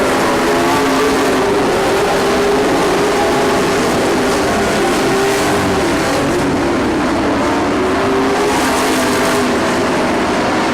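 Dirt-track race cars roar steadily through the turns of an A-main feature, a loud continuous engine drone with slight pitch swells as the pack passes, no talk over it.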